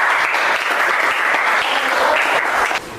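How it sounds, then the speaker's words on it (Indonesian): A classroom audience claps together in a short, lively burst of applause lasting a few seconds, fairly close and loud, ending abruptly. "Kasih tepuk tangan dulu."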